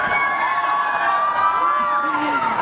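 Crowd at a Tissot watch launch event with Virat Kohli cheering and whooping, a continuous loud roar of voices with shouts rising over it, sustained throughout.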